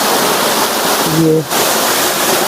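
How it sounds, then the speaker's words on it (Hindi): A powerful waterfall in the Chitrakoot forest gives off a steady, loud, broad roar of rushing water that fills the whole span, with a brief spoken word over it. "तो यहाँ से देखने पर ये जोरदार झरना"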